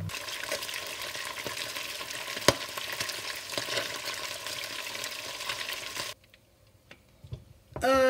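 Salmon belly sizzles and crackles in hot oil for about six seconds, with a steady dense frying hiss and one sharp clink, then the sizzle drops away into near quiet before a brief louder clatter at the end.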